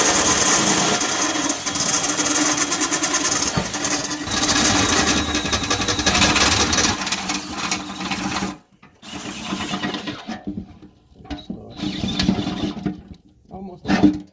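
A drill runs a step bit through a pilot hole in metal during a Mitsubishi Starion engine swap, a steady loud grinding whir for about eight seconds, then stopping and restarting in shorter bursts.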